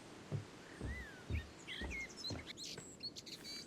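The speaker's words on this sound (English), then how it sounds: "There's something comforting about this path. The sound of the birds, the breeze." Birds chirp and trill through a game forest path, several short whistled calls and tweets scattered over a soft breeze-like ambience, with a few low thuds like footsteps below them.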